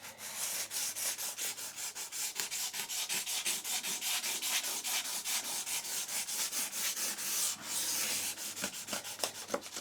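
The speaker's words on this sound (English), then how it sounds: "You can just grab a piece of sandpaper, run that down the gap like this." Sandpaper rubbed back and forth along the gap of a tongue and groove wood joint, a rapid series of soft, rhythmic scratchy strokes, close and fairly quiet, with no talking.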